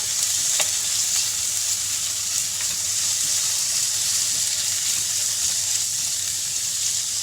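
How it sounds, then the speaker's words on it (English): Bacon fries in a very hot wok, a loud, dense, continuous sizzle heard up close with one faint tap near the start. "I'm going to toss up some bacon."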